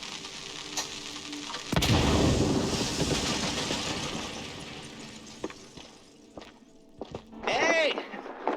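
Firecrackers going off inside a wooden attic in the video game MOUSE: P.I. For Hire, a sudden loud burst followed by crackling, popping noise that fades into scattered thuds and clatter.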